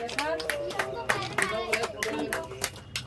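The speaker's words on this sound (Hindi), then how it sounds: "चलो फोटो खींचो, बजाओ जोरदार ताली" Children clap their hands hard while posing for a group photo, a quick run of uneven, crisp claps mixed with young voices chattering throughout.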